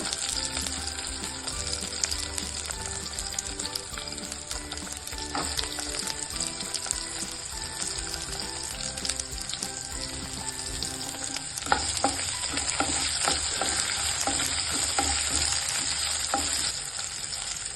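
Onions frying in oil for donne biryani, a steady close sizzle with bursts of crackle and occasional stirring scrapes, loud and continuous with no voices.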